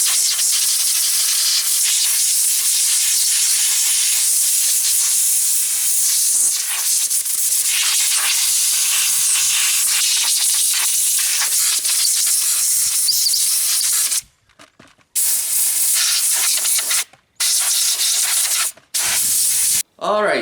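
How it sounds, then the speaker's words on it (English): Compressed air blasts steadily through parts of a Husqvarna Mark 2 120 chainsaw being cleaned, a loud continuous hiss lasting most of the time, then broken into several short bursts with brief gaps. "we're just going to use some compressed air"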